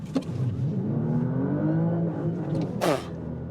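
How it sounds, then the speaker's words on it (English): An Audi RS5 plug-in hybrid accelerates hard on a road just past a village, its engine note climbing steadily and loud over a few seconds, with a short whooshing burst near the end. "Then when the next village here is passed, then you can also accelerate it out, which should be right now"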